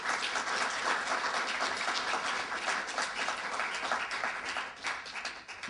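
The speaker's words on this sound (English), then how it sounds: "I would like us, to give a round of applause to the Sankara family here" Audience at an annual conference commemorating Thomas Sankara applauds the Sankara family, a dense, steady wash of many hands clapping that holds throughout with no break.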